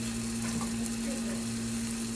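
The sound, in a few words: marinated chicken frying in oil in a pan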